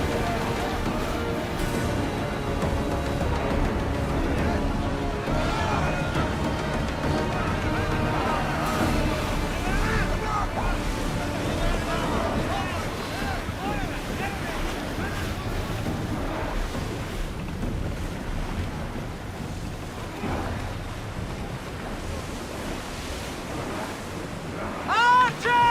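A ship sails over rough ocean waves in the video game Assassin's Creed Odyssey, with continuous rushing surf and wind noise, faint crew shouts and babble mixed underneath.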